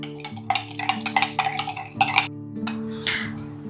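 A spoon mixes yeast, sugar and flour in a bowl, producing quick bursts of clinking and scraping against the bowl in an uneven rhythm, close and fairly loud, with a low steady hum behind.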